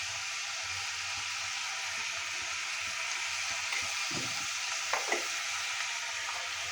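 Food frying in a pan on high flame, a continuous bright crackling sizzle with a few soft stirring knocks and scrapes toward the end, close and steady without speech.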